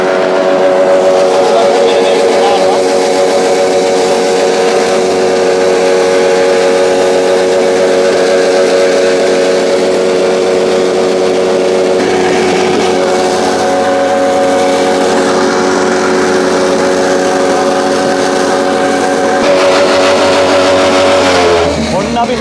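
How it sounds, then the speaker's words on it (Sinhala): A rice milling machine running steadily, a loud continuous mechanical drone with a strong tonal hum that holds for the whole stretch and shifts slightly near the end. "මැෂින් එක ස්ටාර්ට් වුණා."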